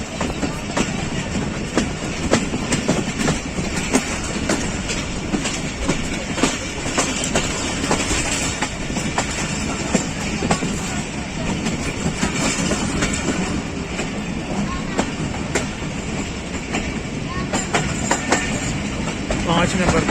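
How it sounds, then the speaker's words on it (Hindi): Hazara Express pulling into platform 5 at a snowy mountain railway station: steady rumble and clickety-clack of rolling rail cars, with faint wheel squeal, continuous throughout. "पाँच नंबर प्लेटफार्म पर 12 डाउन हज़ारा एक्सप्रेस लग रही है"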